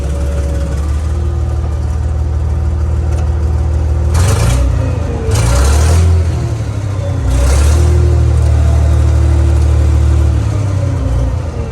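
The engine of a giant wheel loader runs loud and close, with a steady mechanical whine over a deep rumble that rises and falls in several brief revs before settling back to a steady drone.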